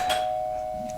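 A single electronic doorbell tone rings out as one sustained, steady chime lasting about a second, clear and fairly loud with no talk over it.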